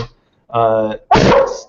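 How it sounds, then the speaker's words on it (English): A dog gives two barks in quick succession, the first a shorter tonal yelp and the second a louder, harsher one, both close by and heard alone. "that's the dog going"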